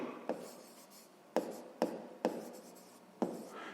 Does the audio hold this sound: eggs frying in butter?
no